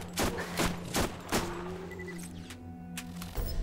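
An unusually slow-firing SMG in Borderlands fires a few spaced, heavy shots about half a second apart, each a loud sharp crack with a rumbling tail, followed by quieter mechanical whirring and a final shot, close and without speech.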